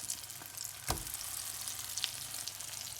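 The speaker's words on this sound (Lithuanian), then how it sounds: "Kai įkaista keptuvę, galite įdėti pirmą žemaičių blyną." Oil sizzles steadily as a pancake fries in a pan, with a brief louder crackle when it lands.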